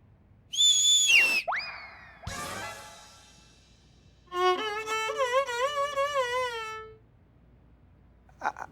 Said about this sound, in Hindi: आप सीटी मारी थी ना, तो हम ही सीटी मारे हैं आपके शुरू के लिए।